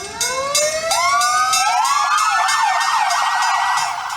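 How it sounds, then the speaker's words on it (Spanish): Emergency sirens from Red Cross and fire brigade vehicles wail together at noon in Costa Rica, loud and continuous, with overlapping rising and falling tones layering into a dense, urgent chorus. "el Cuerpo de Bomberos y la Cruz Roja sonaron las sirenas de sus unidades"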